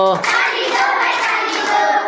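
Hand claps keep a steady beat through a children's clapping song, sharp and close, with young voices singing continuously over them.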